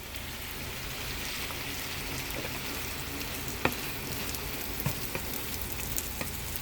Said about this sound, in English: we're going to mix it all together